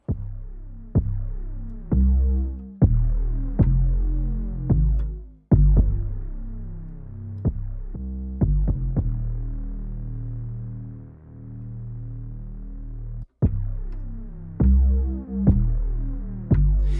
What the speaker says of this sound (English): It's now become like a big detune Unison bass.